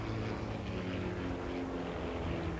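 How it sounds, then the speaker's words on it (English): A tiny Pitts Special aerobatic biplane flies at the 1993 Biggin Hill airshow, its engine a steady, buzzing propeller drone heard from a distance, constant and fairly faint throughout. "Tiny little aeroplane, quite a contrast to the stuff that we've just been looking at."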